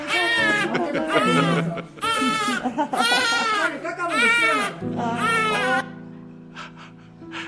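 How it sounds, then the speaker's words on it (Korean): A newborn baby cries in a string of loud, close wailing bursts with short gasping pauses, then trails off into quieter sounds at the end. "요즘 웬만해서는 이 아기 울음소리를 듣기가 쉽지 않습니다"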